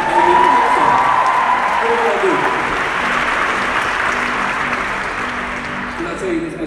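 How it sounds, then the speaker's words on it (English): A New York City church congregation bursts into loud clapping and shouting, a dense roar of applause and cheering voices that slowly tapers, with a singing or exclaiming voice rising above the crowd early on. "can you clap?"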